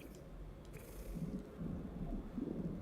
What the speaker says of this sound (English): Oh, this is the first storm.